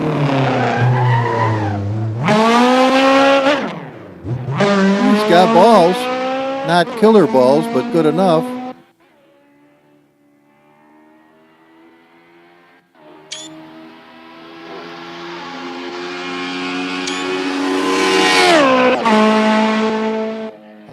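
Engine of a rear-wheel drive car revs and shifts up and down in a racing video game, with rising and falling whine and tire squeal, a brief quiet lull mid-way, and someone talking over it.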